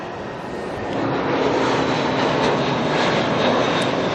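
An airliner in special livery roars in on arrival at Auckland Airport, a broad, steady jet rumble that swells over the first second and stays loud and close, with no voices.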